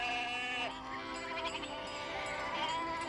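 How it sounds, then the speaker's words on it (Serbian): Goats bleat repeatedly in an animated children's story, as a herd is driven home from pasture along a mountain path; several overlapping, wavering cries sound fairly close over a steady background. "Deda, kako si znao da dolazi Petar sa kozama?"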